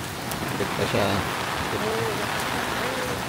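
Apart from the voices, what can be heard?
rain falling by a hotel pool area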